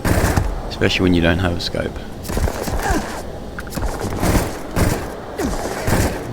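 The automatic Drum Beat weapon in Starfield fires in rapid bursts of gunshots, loud and repeated across the clip, while someone talks over the shooting.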